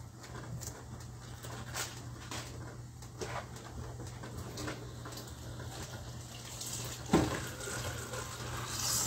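Kitchen tap running while cooking eggplant spaghetti jollof: a steady hissing stream of water with faint splashing and clinks, moderately close, with no speech over it.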